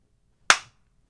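One sharp hand clap during a casual podcast conversation, a single crisp crack that decays quickly in an otherwise quiet room.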